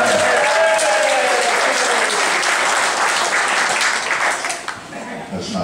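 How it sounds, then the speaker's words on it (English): Audience at a retirement party comedy routine bursts into loud, dense applause with some crowd voices, holding strong before thinning out near the end. "Big round of applause, Chuck Kurzynski."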